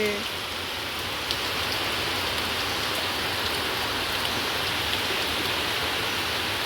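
Steady, heavy rain pours down over a courtyard, a dense and unbroken hiss of falling water that stays close and even throughout.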